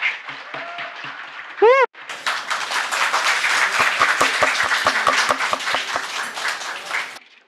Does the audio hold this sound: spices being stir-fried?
no